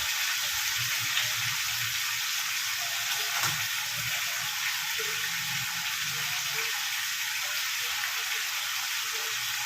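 Ginger and garlic paste fries in a pan for a namkeen gosht meat dish. A constant loud sizzling hiss fills the whole stretch, with occasional stirring scrapes and a voice speaking faintly underneath at times.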